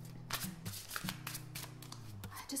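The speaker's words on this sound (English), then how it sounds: "I just love the sound of this shuffle" Tarot cards are shuffled in quick riffling bursts, a crisp flutter repeating several times, close and fairly quiet.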